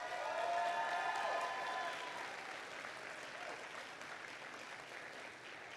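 An audience at a pitch competition applauds the alumni judges with a full wash of clapping and a few faint cheers, loudest at first and slowly tapering off.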